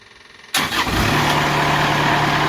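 A sawmill engine cranks and catches after a half-second of quiet, then roars up loudly and settles into a steady, close running drone with a constant hum.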